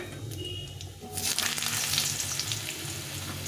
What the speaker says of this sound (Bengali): এখন আমি একটু আলুটা ভেজে নেব প্রথমে